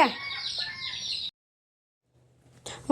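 Chicks cluck and cheep in a close, busy burst, fall silent for over a second, then start up loudly again.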